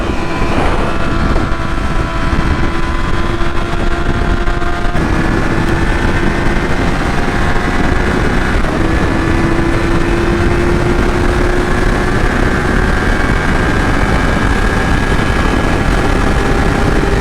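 A 2016 Yamaha R6 sport motorcycle's engine accelerating hard on the road, its steady loud drone climbing gently in pitch under heavy wind roar for the whole stretch.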